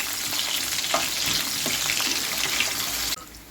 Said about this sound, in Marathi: तर आता कढईत देणार आहे फोडणी.